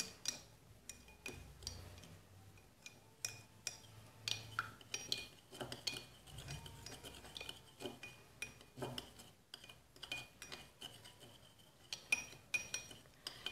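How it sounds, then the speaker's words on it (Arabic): Ingredients, including olive oil, stirred together in a bowl for a homemade skin treatment, with a steady run of close clinks and taps from a utensil against the dish and no talking. "نخلط جيدا مع بعض حتى تمتزج المكونات جيدا."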